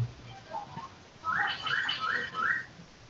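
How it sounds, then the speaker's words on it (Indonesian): A few short chirpy bird calls, moderately close, repeating in a quick series of four similar notes over faint background noise, with no talk. "Ada suara burung."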